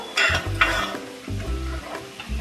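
A mixture cooked down in ghee in a pan being stirred, with close, uneven scraping strokes and soft knocks of the utensil against the pan over a light sizzle.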